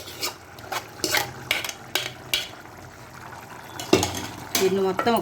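Gongura leaves and dried prawns are stirred in a pan in an Andhra-style dish, with repeated scraping and rubbing strokes of a spoon and a soft background sizzle.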